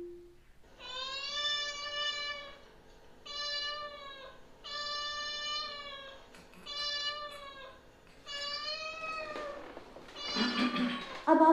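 A cat's meows played back through an Alexa smart speaker: about five clear, drawn-out mews in close succession, each separated by short pauses, followed by a rougher, noisier burst at the end.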